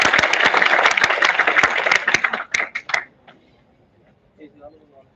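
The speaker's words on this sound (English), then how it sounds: "Let's have a huge round of applause for Mr. Eric." A conference audience claps for a speaker taking the stage, dense applause for about two seconds that thins into scattered separate claps and dies out, leaving a quiet room with faint murmurs.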